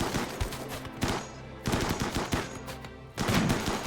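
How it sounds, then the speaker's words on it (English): Rapid automatic gunfire bursts from a RimWorld video game battle, several dense volleys of shots with brief pauses between them, loud and alone. "Alright, we're starting to get shot by Booker."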